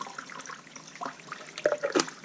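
Water from a spring pours into a container on a backpacking trip, with close, uneven trickling and splashing that grows louder in short bursts toward the end.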